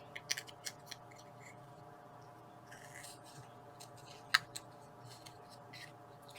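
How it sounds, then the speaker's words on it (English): Scissors trimming a small paper flower stem in a papercraft scrap project, a few quiet close snips and clicks over a faint background hum. "I'm going to trim off this little stem."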